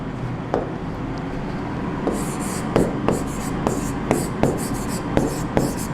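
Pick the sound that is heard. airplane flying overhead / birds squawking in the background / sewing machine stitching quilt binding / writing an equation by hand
writing an equation by hand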